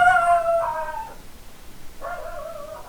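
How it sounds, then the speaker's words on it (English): A dog howls indoors in two long, wavering, high-pitched howls separated by a short pause, loud and close, with no talking. "she just got up and started barking out of nowhere"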